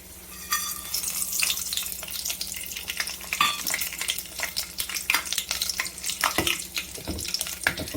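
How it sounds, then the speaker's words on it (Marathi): Whole spices dropped into hot oil sizzle loudly up close, with sharp crackles and stirring scrapes over a continuous frying hiss. "तर आता तेल तापलेलं आहे तर सगळ्यात पहिल्यांदा आपण याच्यामध्ये खडे मसाले टाकून घेऊया"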